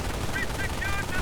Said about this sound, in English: Half-track and Grenadiers firing away at these chaps.